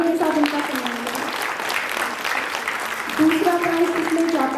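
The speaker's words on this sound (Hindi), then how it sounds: "जोरदार तालियों के साथ उनका सम्मान करें।" Audience applause at a philatelic stamp exhibition prize ceremony: dense, steady clapping from a seated crowd for an award winner, with a voice faintly audible underneath and a slight swell near the end.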